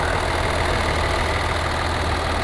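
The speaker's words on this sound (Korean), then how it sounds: "엔진 소리 일정하네요" A Kia Mohave 3.0 diesel 4WD SUV engine idles steadily and loudly at close range, a constant low rumble with an even rattling texture and no variation.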